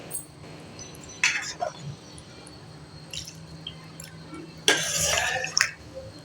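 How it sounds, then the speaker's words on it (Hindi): Water pours into a pot of cooking potato chicken curry in two short splashing bursts, close and moderately loud, against a quiet kitchen background. "अब मैं इसमें डालती हूँ पानी।"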